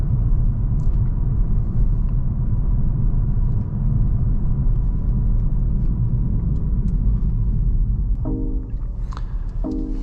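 BMW G31 530xd 5 Series car driving on the road, heard from inside as a constant low rumble of engine and tyres, with a few short ticking indicator-like clicks toward the end and no voices.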